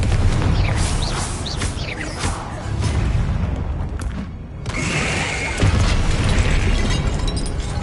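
Confringo fire spell explosions in Hogwarts Legacy combat, loud bursts and pops layered with mechanical clanks and thumps in a continuous, busy battle soundscape.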